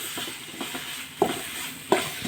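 Tomatoes frying with curry leaves in a pan, with a continuous bright sizzle and a few stirring knocks, two of them louder spoon clunks near the end.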